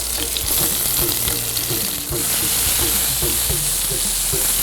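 Garlic and tomatoes fry in an oiled pan with a steady, close sizzle and crackle, broken by repeated soft stirring scrapes, with a brief dip near the middle and no talking.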